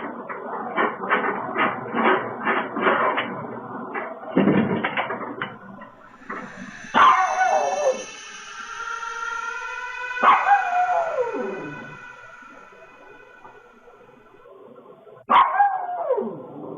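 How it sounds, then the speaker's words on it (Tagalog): Two dogs bark repeatedly in a quick volley at a farm house, caught on a CCTV camera, followed by a few longer howling, whining cries spaced apart, heard fairly close over a steady background hiss. "Makikita sa video ang dalawang aso"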